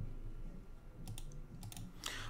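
A password being typed on a computer keyboard: a few quick, faint key clicks in short bursts over a quiet room hum, with no speech.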